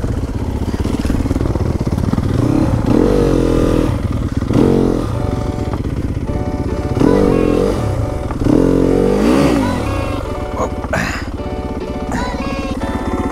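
Dirt bike engine revving off-road in the Peak District, loud and close with rising and falling throttle bursts and gear-change whines, the rider struggling for tyre grip.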